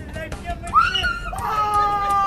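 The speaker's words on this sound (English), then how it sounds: "that screaming tells you that these youngsters are very excited at this audition" Excited youngsters at an audition burst into high shrill screams over a background of crowd babble, the screaming rising sharply midway and staying loud to the end.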